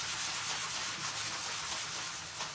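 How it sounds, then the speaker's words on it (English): Continuous scratchy rubbing of a sanding block over a surface, quick back-and-forth strokes close up with no voices. "So this is just a fine sanding block."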